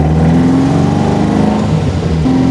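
An Alfa Romeo 33 race car drives on a public road, its engine close and loud with a droning, shifting pitch through the interior, with no talking.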